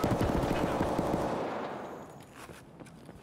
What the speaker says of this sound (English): this gun has a lot of recoil